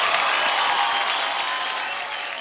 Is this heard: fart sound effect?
no